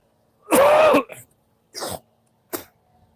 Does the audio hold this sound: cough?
yes